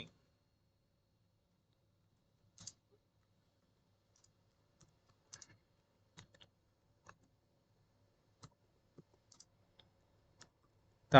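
Sparse, quiet keystrokes as a message is typed on a computer keyboard, scattered single clicks and small clusters at irregular intervals against near silence, ending with a sharper, louder tap.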